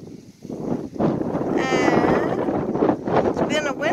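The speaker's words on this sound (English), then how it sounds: "Been a windy day today" Steady wind buffets the microphone in broad low rumbles, with faint voices and a few brief tonal sounds in the background.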